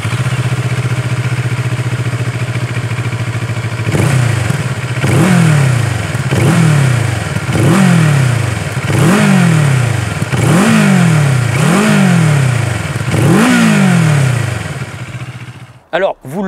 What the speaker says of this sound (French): ce moteur présente la même sonorité un petit peu saccadée de bicylindres parallèles calés de façon classique